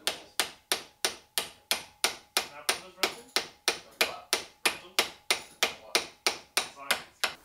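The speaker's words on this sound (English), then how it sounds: "I'm gonna get a socket that fits the surface of the bearing and then hammer it in a little bit" Steady metal hammer blows on a socket driving a bearing into a Fiat 500 Abarth CV axle, about three per second, each a sharp ringing strike that decays quickly, repeated evenly and close by.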